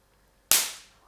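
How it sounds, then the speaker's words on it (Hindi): A Sequre SQ-SW1 resistance spot welder cracks loudly as its two pins are shorted together: a single sharp, close spark bang out of near silence that rings briefly and fades within about half a second. "बहुत ज़बरदस्त किस्म का पटाखा जला"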